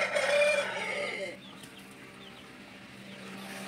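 A Tamil kattu seval fighting rooster, a raised-tail type with a top comb, gives a loud, close crow or harsh call for just over a second. Quieter farmyard ambience with a steady low hum follows.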